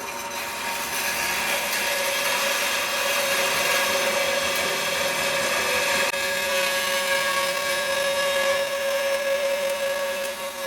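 A power saw cuts steel during Memorial Day repair work, a loud steady whine with a strong sustained tone that runs unbroken for the whole stretch with no talking.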